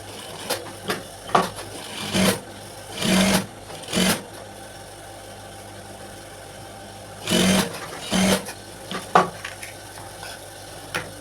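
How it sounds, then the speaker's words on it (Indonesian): Sewing machine stitching a school skirt's left pocket along a marked line, in several short bursts of running stitches separated by quiet pauses, each burst lasting about a second. "Ini baru kita jahit sesuai dengan garisnya ini."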